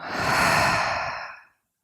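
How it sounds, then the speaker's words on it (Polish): A deep exhale through the mouth during a spring yoga practice, one long breathy sigh that swells and then fades out over about a second and a half, close and clear with no talking. "głęboki wdech i wydech przez usta"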